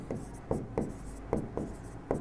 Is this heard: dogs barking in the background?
no